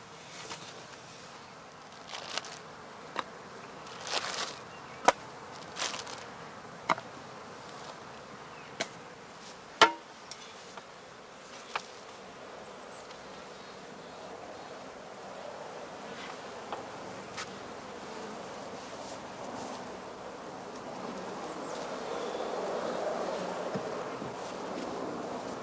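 Honey bees buzz at a spring apiary as a faint, steady drone, with scattered clicks and light wind noise, no voices.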